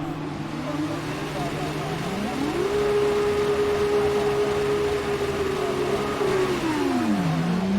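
Race cars in the F1 2019 video game rev at the start of a race, making a loud engine drone that climbs in pitch, holds high and sustained, then drops back down near the end.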